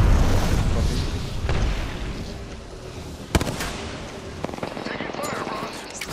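A frag grenade going off in the shooter Apex Legends, one sharp blast amid ongoing gunfire and booming combat noise, with other thuds and cracks scattered through a busy fight.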